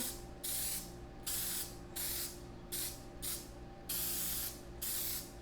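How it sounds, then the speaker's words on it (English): Several short bursts of non-stick baking spray onto kransekake baking rings, hissing in an uneven rhythm with brief pauses between, close by over a steady low hum. "So first thing we're gonna do is just give all of these a quick spray."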